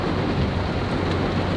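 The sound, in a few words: thunderstorm with heavy rain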